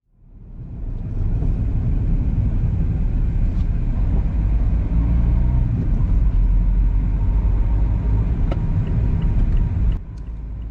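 Car driving out of a village in the Rushcliffe area, heard from inside: a steady loud low road and engine rumble that builds quickly and stays constant, with a brief change near the end.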